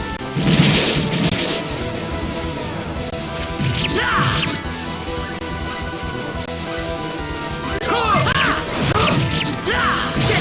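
Repeated Energy Arrow spell attacks from Star Ocean Second Evolution crash and thwack in loud bursts over busy battle music, with whooshing impacts clustered near the start and again toward the end.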